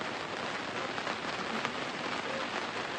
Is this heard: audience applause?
no